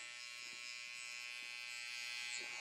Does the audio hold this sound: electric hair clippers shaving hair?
yes